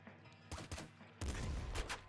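Double slugger shotgun blasts in Nuclear Throne Ultra Mod, two quick heavy bursts about a second apart, the second louder and longer, faint under game ambience.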